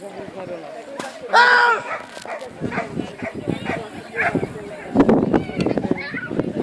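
A dog barks and yips in short excited bursts during bite-work protection training, close and loud, with someone talking over and between the barks.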